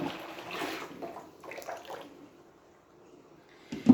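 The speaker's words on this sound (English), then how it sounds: "pour all the water out" Water splashes and gushes as it is poured out of a fish tank, sloshing in uneven bursts that fade before a final louder splash.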